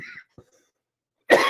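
A single sharp cough bursts out after near silence, close and loud, preceded by a brief faint murmur.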